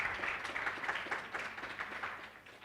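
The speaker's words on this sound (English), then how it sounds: "I think another round of applause for their lordships." Brief round of audience applause for the judges at a university constitutional law moot court competition, moderately loud with individual claps audible in a steady patter.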